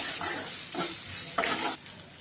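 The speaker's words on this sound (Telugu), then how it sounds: "బాగా మిక్స్ చేసుకోవాలి." A pan of frying raw banana curry with turmeric and salt is stirred, producing three or four scraping sweeps over a steady soft sizzle, close and fairly clear.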